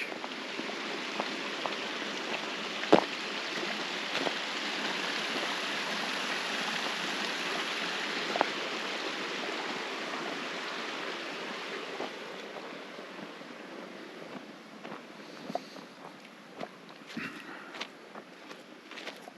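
Water from a mountain creek flowing out of a mine rushes steadily in a broad, close hiss, with occasional footsteps and small knocks over it.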